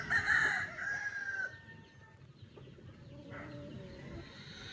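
A rooster of the asil breed, crossed with a white kelso, crows once loudly and close at the start, the call trailing off after about a second and a half, followed by faint clucks and quiet farmyard background.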